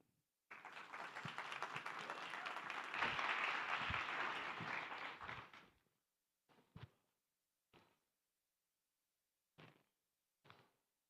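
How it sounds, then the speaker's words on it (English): A conference audience applauds the next speakers at a ZK talk on a Devcon stage in Bogotá, a dense burst of clapping lasting about five seconds that fades, then scattered thumps and handling noises. "Let's give a big round of applause to Lakshman and Yi."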